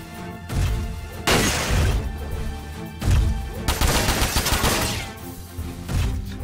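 Missiles and gunfire strike a mech in Front Mission 4 on PS2, a loud burst of explosive impacts and crashing hits arriving in several heavy waves, with no talking.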